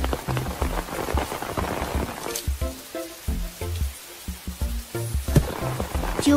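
A Pocoyo weather and season toy playset plays a rain effect: patters and drips in an uneven rhythm, close and moderately loud, with no talking over it.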